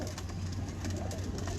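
Pigeons on a rooftop coo in a low, steady murmur against a constant hum of background noise, with no talking over them.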